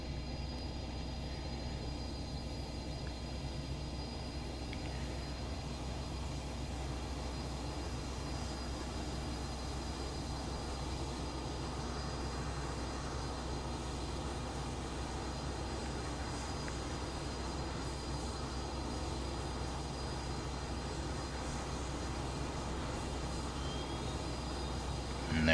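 Rafale jet in Microsoft Flight Simulator during a cold start, its engine holding a steady, even drone with a low rumble and a faint high whine that barely changes throughout.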